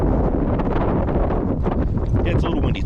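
Wind gusting outdoors, a loud rumbling buffet against the microphone throughout a short stretch, with a person talking underneath.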